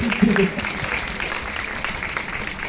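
An audience claps for a model Mars rover after it crosses a rock obstacle, a short burst of applause heard under an ongoing voice.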